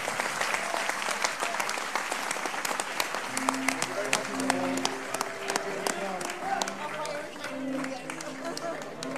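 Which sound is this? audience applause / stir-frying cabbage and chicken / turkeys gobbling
audience applause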